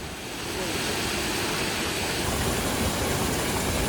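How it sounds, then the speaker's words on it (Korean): A small waterfall of hot spring water in a sulphur-scented Japanese onsen town pours in a steady, dense rush that swells in the first half second and then holds loud and unbroken. "아래에는 온천수로 이루어진 작은 폭포 포토스팟이 있었다."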